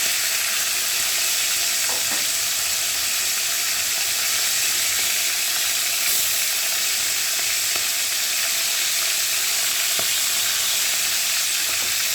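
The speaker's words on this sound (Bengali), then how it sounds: "আজ দেখো ফ্রাই করেছি রূপচাঁদা, আমার ছেলের প্রিয় মাছ রূপচাঁদা।" Sea pomfret (rupchanda) frying crisp in oil in a pan, giving a loud, continuous close-up sizzle with occasional faint clicks and spatters throughout.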